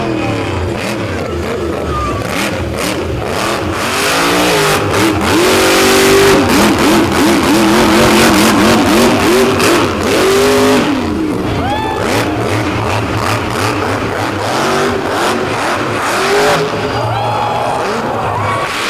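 A monster truck engine revs hard on a beach course, a loud, continuous roar with rising and falling throttle surges and whining pitch sweeps, with faint crowd or announcer sound underneath.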